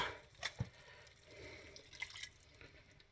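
Water poured into a glass jar to rinse out a sauce during cooking, a faint, close splash and trickle with a few drips, quiet throughout and without talking.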